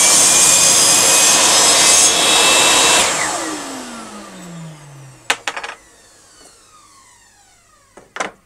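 A table saw mounted in a cabinet with a router runs with dust extraction under the blade: a loud steady whine that spins down, pitch falling over a few seconds, followed by a few sharp knocks.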